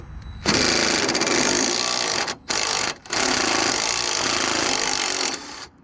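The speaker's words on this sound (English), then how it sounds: "to speed things up, I'm using an impact" An impact wrench with an 18mm socket hammers loose a sway bar bolt on a Jeep XJ, a loud close rattling burst that stops twice briefly before running on and cutting off.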